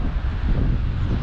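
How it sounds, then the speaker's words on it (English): Strong wind roars and buffets the microphone at a lake in the Emigrant Wilderness, a loud, low, continuous rumble, briefly and without any voices. "It's just as windy here, or windier than at Emigrant Meadow."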